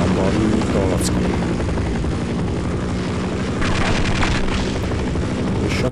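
A helicopter in the video game Half-Life, a loud continuous rotor and engine drone filling the whole stretch with a steady throbbing beat, loud and close, with a few sharp game effects over it.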